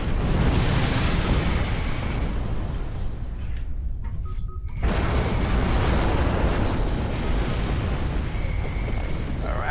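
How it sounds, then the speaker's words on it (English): A torpedo blast destroys a Jem'Hadar bug ship in Star Trek Online: a loud, roaring explosion rumbles on, briefly dips to near quiet, then surges back into a sustained heavy roar. "I think that's a successful destruction of a Jem'Hadar bug ship"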